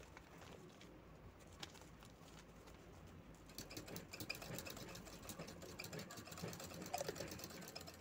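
A sewing machine stitches a bag made from the border fabric of a sari. It starts as a faint, quiet hum, then rattles steadily and more loudly from midway onward, with a few soft bird-like chirps in the background.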